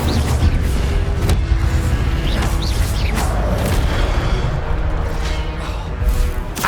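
An Incendio fire spell is cast in the Hogwarts Legacy video game, with a loud, steady roaring whoosh of flame and scattered crackling bursts layered over busy combat noise throughout.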